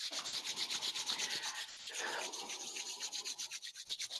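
Palms rub together in a soft, dry swishing, close and fairly quiet, with steady back-and-forth strokes and no talking.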